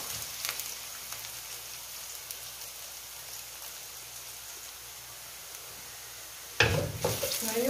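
Seafood, such as boiled shrimp, stir-fries in a hot pan for Taiwanese-style fried rice vermicelli. A steady close sizzle hisses throughout, then turns suddenly louder and busier near the end as the pan is stirred.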